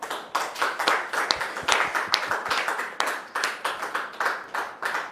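Studio audience applause welcoming a guest onto a talk show set, with many hands clapping in a loose, pulsing rhythm, close and fairly loud, swelling in waves.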